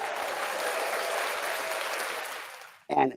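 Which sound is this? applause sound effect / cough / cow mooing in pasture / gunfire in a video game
applause sound effect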